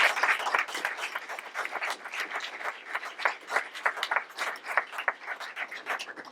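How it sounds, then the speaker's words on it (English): Steady round of clapping from a modest crowd at a press conference for an All-American football player, individual claps distinct and evenly paced throughout. "Let's give them one big round of applause."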